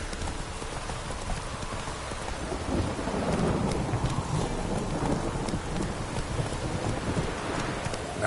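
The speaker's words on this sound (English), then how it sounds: "Lightning strike." Thunder rumbling through a rainstorm in The Witcher 3, a steady wash of rain with a low rolling rumble swelling midway, heard alongside clip-clopping horse hooves and no talk.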